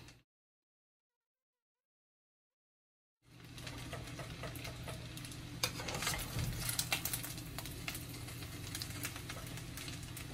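Spaghetti is stirred in a pot during Haitian home cooking, heard as soft scraping and clinking over a steady sizzle and hum after a silent gap at the start, close by with no talk.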